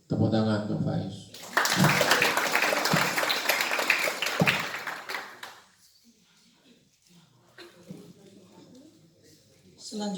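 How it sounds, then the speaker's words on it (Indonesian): Audience applause after a student's practice speech at a school khitobah session, a dense burst of many hands clapping that swells strongly and then fades away, with quieter voices and murmuring in the room afterward. "Tepuk tangan untuk Faiz."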